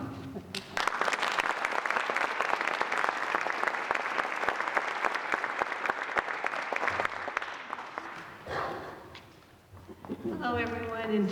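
An audience at a school foundation hall of fame induction ceremony applauds steadily for several seconds in a large hall, then the clapping fades and a voice begins speaking over a microphone.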